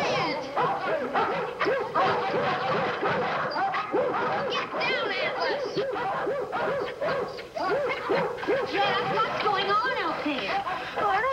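A crowd of about fifteen dogs barks and yips nonstop, overlapping loudly and close by, with people talking over the noise.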